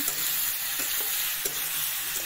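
Fish and potato pieces fry in a pan with a loud, continuous sizzle, while a spatula stirs them in soft, regular scrapes, close up and with no voices.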